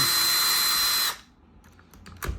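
Cordless power tool with an 8mm socket spinning nuts off an Audi airbag cover, a steady loud whir for about a second, then it cuts out and small metallic taps and clicks follow.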